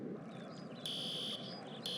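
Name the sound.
fire alarm ringing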